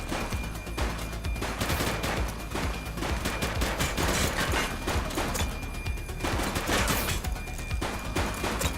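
Sustained bursts of gunfire from police shootout gameplay in The Precinct, rapid automatic and overlapping shots filling the scene continuously, loud and dense throughout with brief shouted voices mixed in.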